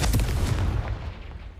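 Deep booming blasts from a Bombarda or Confringo spell smashing blocks in Hogwarts Legacy, with a heavy burst at the start that rumbles and slowly fades.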